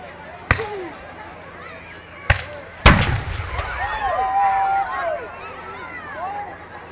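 Muskets and cannon fire at a Kings Mountain battle reenactment: three sharp, loud outdoor bangs spaced a second or two apart, the last the heaviest and rumbling, with people talking around them.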